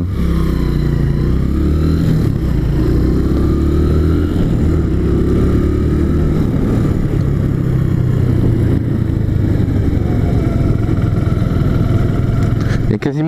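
A loud motorcycle engine rumbles continuously at low revs under heavy engine braking, its tone shifting slightly as it decelerates, with some talking underneath.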